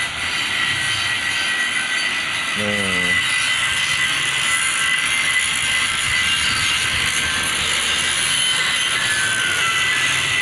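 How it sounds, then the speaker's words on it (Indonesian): A small car fitted with a replacement Dongfeng engine runs in a loud, steady, rough drone throughout, with a brief voice partway through. "Mesin mobil kecil diperbaharui pakai mesin dompeng."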